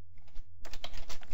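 Rapid, close clicking of a computer keyboard as code is typed, a short quiet burst followed by a denser run of keystrokes, with no talking.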